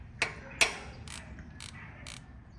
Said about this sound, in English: Crack the nut loose.